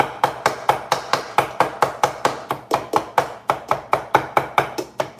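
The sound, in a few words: chopping food with a knife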